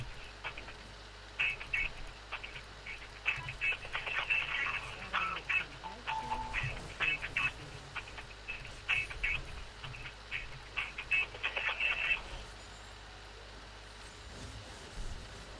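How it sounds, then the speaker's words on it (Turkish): Telephone ringing unanswered, a faint repeating electronic ring pattern in regular bursts over quiet room background, continuing for several cycles with no voices. "Hadi lan aç şu telefonu."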